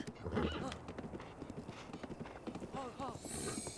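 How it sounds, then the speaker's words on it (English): A spotted horse in the video game Zelda: Breath of the Wild, with quick rhythmic clip-clop hoofbeats and a neigh, heard together with someone talking over the game. "This is a spotted horse with only 2 stamina."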